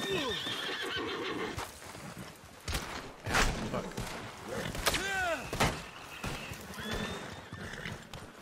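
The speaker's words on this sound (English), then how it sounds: "This fucking horse is trapped in this yard." A horse in the Red Dead Online video game, trapped in a fenced yard, whinnies several times in rising and falling cries, mixed with hoof clip-clops and clunks at moderate volume.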